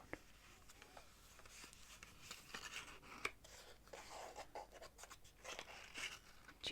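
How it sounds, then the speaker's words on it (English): Soft close crinkling, tapping and scraping as hands handle a cardboard playing card case, quiet and intimate with small irregular clicks and rubs throughout, no talking. "Do you like the cardboard sound?"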